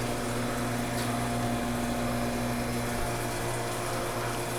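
A wort pump spins on a HERMS pilsner brewing rig, giving off a steady, loud, even hum with a constant pitched whine and no break in the tone.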